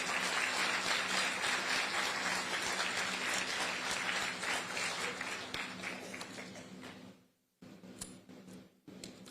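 A public audience at a ferry terminal event applauds with dense, sustained clapping, steady for several seconds before tapering off into a few scattered claps.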